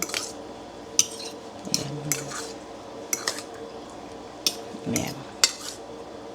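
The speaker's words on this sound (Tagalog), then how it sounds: "Pwede nyo haluin yung grapes." A fork stirs grapes in a bowl, making sharp metallic clinks and scrapes against the dish, some soft squishy movement between them, close up, with a voice speaking briefly.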